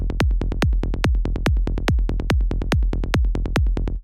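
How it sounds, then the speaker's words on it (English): Psytrance kick and bass line: a punchy kick drum thumping on a steady four-on-the-floor pulse, interlocked with rapid rolling bass notes between the beats, loud and driving with no voices. "So that means that we're moving on to kick and bass number 2, which sounds like this."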